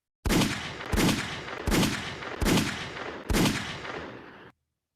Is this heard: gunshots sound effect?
yes